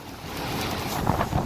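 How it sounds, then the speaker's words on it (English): Strong storm wind roars and buffets against the microphone in a continuous loud rush, gusting unevenly with no talking. "That is windy as fuck!"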